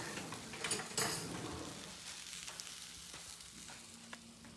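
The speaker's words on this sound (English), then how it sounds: "Can you hear the sizzle?" Quiet sizzling in a pan with a few clinks of utensils early on, fading to a soft steady fry.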